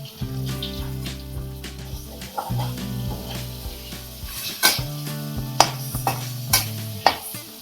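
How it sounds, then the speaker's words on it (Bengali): Prawns fried one by one in hot oil give a steady close sizzle, with sharper crackles and spits breaking through in the second half; no voices. "এবার চিংড়ি মাছগুলোকে একে একে ভেজে নেব"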